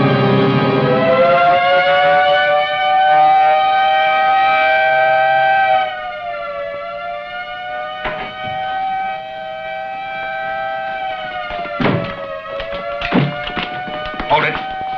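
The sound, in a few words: prison general alarm siren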